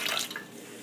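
Warm water pouring into a bread machine pan, a close splashing stream that starts strong and tapers off over under a second.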